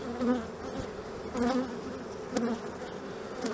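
Honeybees buzz around an open hive during a spring inspection after winter, a steady close drone with a few louder passes as individual bees fly near.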